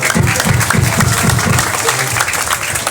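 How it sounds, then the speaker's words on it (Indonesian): An audience at a Walisongo descendants' installation gathering applauds with rhythmic, fairly loud group clapping and some crowd noise, fading slightly toward the end. "tepuk tangan untuk Ibu Bapak sekalian"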